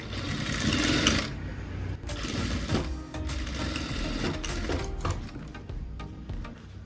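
A sewing machine stitches fabric for a small handmade mini bag with lining, giving a fast, steady mechanical rattle in several bursts separated by short pauses.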